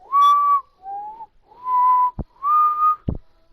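A person whistles an imitation of the wolf's whistle from Puss in Boots 2, four sustained clear tones in a short phrase with two sharp clicks between them.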